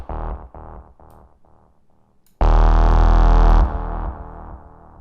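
Hypnotic techno bassline built in Ableton, with repeated low pulsing notes that then swell into a loud, sustained wash of reverb-drenched sound before decaying back to the pulses, with no voices.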